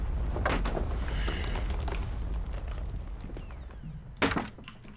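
A telephone drops in the psychological horror game Layers of Fear, giving a muffled thump against steady background noise, with a sharper knock near the end.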